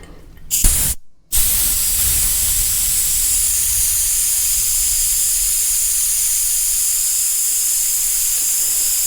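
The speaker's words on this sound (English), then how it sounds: "You need to bleed all the air pressure out of the can" Pressurized air bleeding out of an aerosol can during a refurbishing job: a short burst and pause, then a loud, continuous steady hiss that runs uninterrupted to the end.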